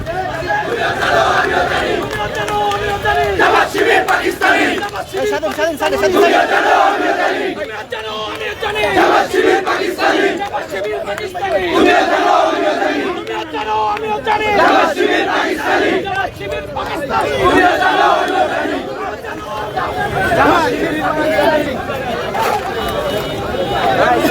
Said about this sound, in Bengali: এবং এখানে স্লোগান উঠেছে নিউ মার্কেটে